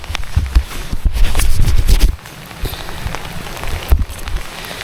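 Steady rain patters on a surface along a walking trail while footsteps crunch and scuff through the wet, loud and close for the first two seconds, then softer, with another burst near the end.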